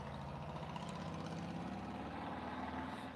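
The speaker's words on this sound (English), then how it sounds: "you can hear that special bird called the Harley" A Harley motorcycle engine rumbles at a low, steady idle from some distance, a continuous deep throb without speech.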